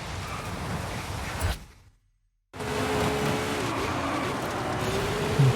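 A Lexus LFA engine drones under acceleration in Forza Horizon 5 racing. The tone cuts to near silence for about a second, then the loud engine returns and holds steady with shifting pitch.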